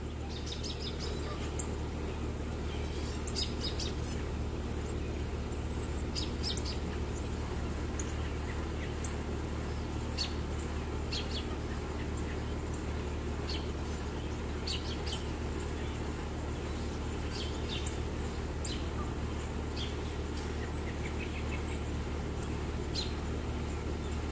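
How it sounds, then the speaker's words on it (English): Birds chirp and tweet in short morning bursts at a distance around sunrise, scattered over a steady low hum of background noise. "Birds are singing this morning."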